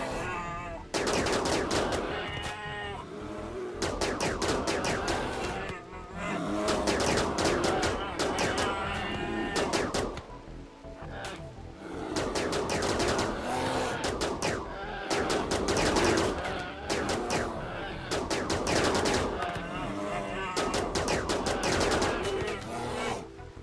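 Rifles fire in the RimWorld video game in dense, repeated bursts of rapid shots, with brief pauses between volleys throughout and no talking.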